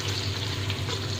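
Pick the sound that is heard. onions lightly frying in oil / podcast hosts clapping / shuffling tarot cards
onions lightly frying in oil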